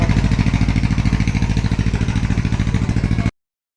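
Diesel engine of a river launch ferry running steadily up close, a loud throbbing chug with a fast regular pulse that stops abruptly.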